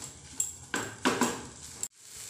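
Tomato and potato mash roasting in a pan over a medium flame, heard as a few close spatula scrapes and clinks against the pan, separated by quiet gaps.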